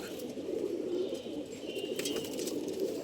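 Racing pigeons coo steadily in a low, continuous murmur, with a few faint chirps and rustles, close by and with no one speaking.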